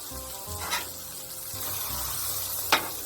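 Smash burgers sizzle on a Blackstone griddle outdoors, a steady loud frying hiss with a couple of sharp scraping or pressing accents, no voices.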